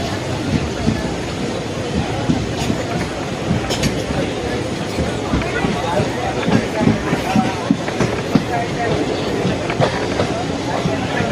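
Passenger train running on the main line into Mayiladuthurai junction, a continuous rattling rumble with rhythmic clicks and metallic clinks from the wheels and carriages, steady and close.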